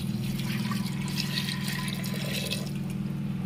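Water splashes and trickles steadily into a cooking pot of rajma for a few seconds, close and fairly soft, over a low background hum.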